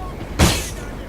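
A single musket volley in Napoleon: Total War, a skirmish fight with troops firing from buildings, lands as one sharp burst with a low thump, then fades into a soft background rumble.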